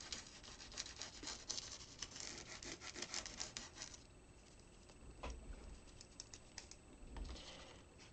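A finger rubbing ultrafine glitter into a dryer sheet: soft, close, continuous scratchy rustling strokes, busier at first and then lighter with brief pauses, faint and without talk.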